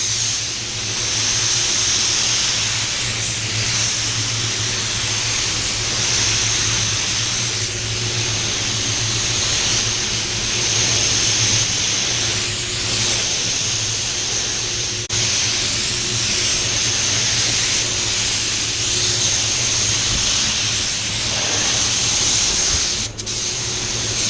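A spray gun lays clear coat over a Range Rover body in a paint booth, a loud steady hiss that runs unbroken throughout with a constant low booth hum beneath it.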